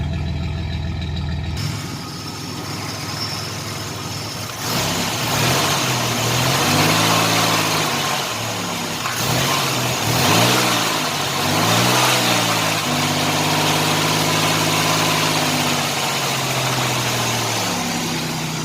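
A Chevrolet Celebrity Eurosport cranks briefly after sitting for five months, catches and settles into a loud, close, slightly uneven cold idle, its pitch rising and falling a few times as it warms.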